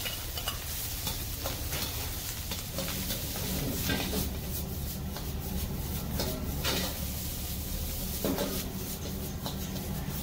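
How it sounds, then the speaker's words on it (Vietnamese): Rice is stir-fried in a very hot pan in a home kitchen, with steady sizzling and repeated scraping, tossing strokes of the utensil against the pan throughout, close and fairly quiet, no talking. "Rồi giờ mình bỏ cơm vô."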